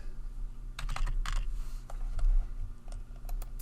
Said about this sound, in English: You can type in an expense report number